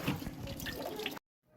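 Tap water runs steadily into a sink while plastic water bottles are rinsed, a close, continuous splashing gush that cuts off abruptly near the end, leaving brief silence before faint room noise returns.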